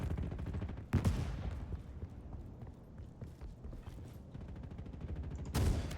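Rapid bursts of gunfire in a Roblox war game, with loud shots near the start and the end over a steady background of game noise and clatter.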